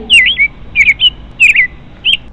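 Sparrow chicks in an animated story give bright, close chirps in about five quick bursts, each a short warbling twitter separated by brief quiet gaps.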